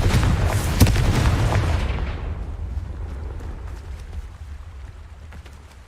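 An explosion spell cast in the video game Hogwarts Legacy sets off a loud booming blast followed by a long rumbling decay that fades over several seconds.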